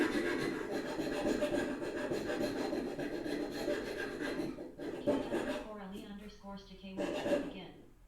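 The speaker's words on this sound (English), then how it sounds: "Plus I need to rasp a little bit back here anyways." A rasp works a wooden backsaw handle in steady back-and-forth strokes, scratchy and close, easing off near the end as a voice speaks briefly.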